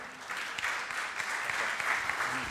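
An audience claps to welcome a pastor, theologian and writer at a church talk on freedom and religion, producing a steady, even wash of many hands applauding, fairly subdued and continuous from start to finish.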